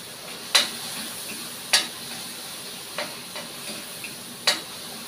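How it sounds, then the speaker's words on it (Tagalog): Squid adobo frying in a pan, stirred with a utensil: several sharp scrapes and clinks at irregular intervals over a soft, steady sizzle. "haluin ang haluin pa rin"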